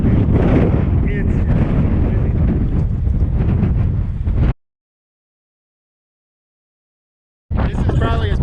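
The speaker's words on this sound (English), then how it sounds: "That wind is fucking blowing." Strong storm wind loaded with sand roars across the microphone in heavy, continuous buffeting, cutting out abruptly partway and then returning just as loud.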